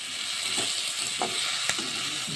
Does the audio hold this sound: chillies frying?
yes